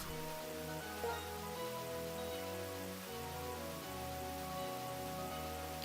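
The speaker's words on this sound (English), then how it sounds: "This is like the more intense rain." Heavy rain in the Pokemon Black video game, a steady dense hiss of rainfall mixed with sustained game music tones, even and continuous without speech.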